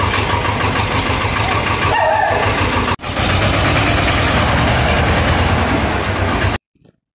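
An Escort 325 diesel tractor, a 25 HP farm machine, idles loudly and steadily up close with a deep rumbling throb, a brief dip near the middle, then cuts off abruptly near the end.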